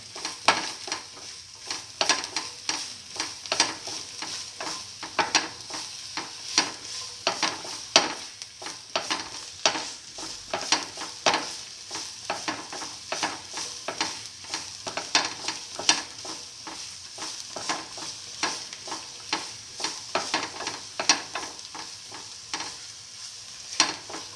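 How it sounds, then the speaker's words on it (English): Soy chunks sauté in a pan, a soft, fairly quiet sizzle punctuated by a rhythmic series of spoon stirs and scrapes over about twenty seconds, with no one talking. "Keep on sauteing."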